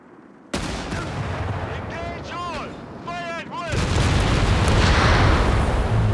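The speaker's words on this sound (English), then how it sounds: "strafe coming in there from Kackb00n" Air strafing run in Company of Heroes 3 during a 2v2 match, a sustained roar of heavy gunfire building and growing louder toward the end, with someone talking over the first part.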